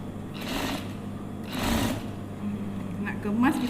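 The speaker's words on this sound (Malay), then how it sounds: "Kita jahit dia dulu." A sewing machine stitches elastic into batik trousers in short whirring bursts, three runs of rapid needle chatter separated by pauses, with a voice talking in between.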